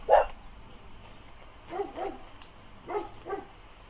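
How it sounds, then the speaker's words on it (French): Pet dogs answer neighbouring dogs with a single sharp bark followed by two pairs of softer, moderately distant barks, separated by quiet gaps. "Ils sont en train de parler avec les chiens d'à côté."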